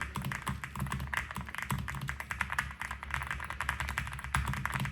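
Typing on a slim 80% low-profile mechanical keyboard with a full CNC aluminum case and gasket-mount build, a rapid close run of crisp, even keystroke clicks with no talking.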